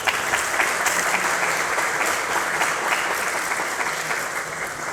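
Sustained applause from the assembled lawmakers at a Democratic Party workshop for party leader Lee Jae-myung, a dense, steady clapping that fills the room for several seconds without letting up.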